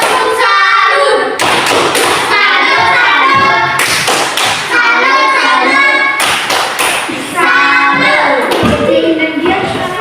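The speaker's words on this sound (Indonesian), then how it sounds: "tepuk salut untuk kamu Pak. Tepuk salut." A classroom of children doing the 'tepuk salut' rhythmic clap, sharp patterned claps and thumps in quick groups, loud and close, with children's voices chanting along between the beats.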